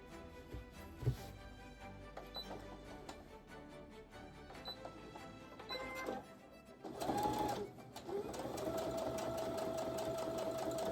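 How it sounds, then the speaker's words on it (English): A sewing machine stitches together pieces of 1780s-style stays, a fabric corset, whirring in steady bursts with short pauses and a louder, continuous run toward the end, close by with no talking. "I'm going to be stitching a couple of pieces together"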